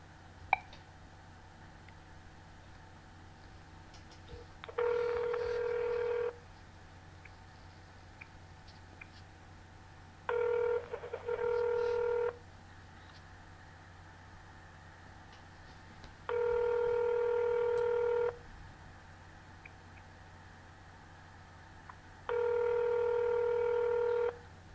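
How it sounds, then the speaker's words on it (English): Touch-tone keypad dialing a phone number, four separate bursts of clear DTMF tones spaced several seconds apart over a quiet line with low background hum, no talking. "calling Wayne Johnson, the chair of District Otter County Commissioners."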